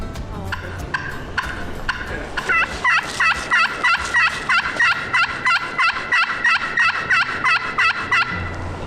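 A wild turkey gobbles in the timber, a loud, rapid rattling series of throaty notes repeating for several seconds, preceded by scattered softer bird calls and outdoor background.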